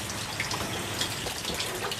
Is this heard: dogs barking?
no